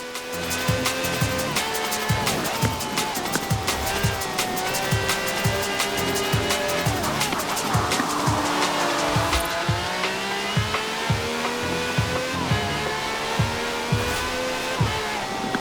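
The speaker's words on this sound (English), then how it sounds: "This has a V12 with over 750 horsepower, plus bucket seats." A V12 car with over 750 horsepower driving in Forza Horizon 4, its engine droning loudly and shifting pitch as it accelerates, with tire squeal and a regular ticking pulse throughout.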